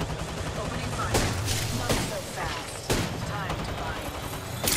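Rapid gunfire in a video game shooter: repeated bursts of crackling shots over a dense, continuous battle din, several sharper cracks standing out, with a voice talking over the action.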